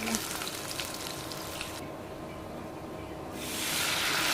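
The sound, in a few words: onion frying in oil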